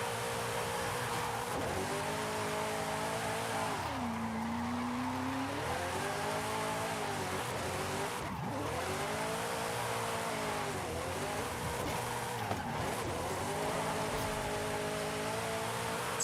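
Cars drift in tandem in the video game Forza, with steady engine drones rising and falling as they slide and sustained tire squeal running throughout. The sound is continuous and fairly loud, with no talking.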